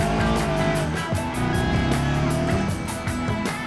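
A car engine runs in the BeamNG racing game, a loud, steady motor drone with a rich, continuous hum that holds throughout with slight swells and no pauses.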